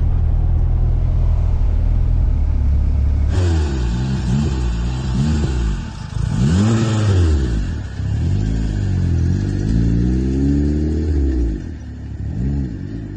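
A K-swapped car accelerates hard through several gears, its engine note climbing repeatedly in sweeping rises and dropping at each shift, loud and close over a rumbling road noise.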